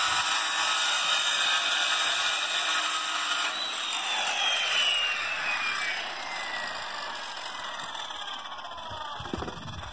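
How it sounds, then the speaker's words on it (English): A power saw rips across clamped two-by boards for a straight cut at an off-grid site in Terlingua, Texas: a loud, steady whine runs the full ten seconds, its pitch sliding downward midway, with a brief knock near the end. "I can just run the saw across there quick and I get a perfectly straight cut"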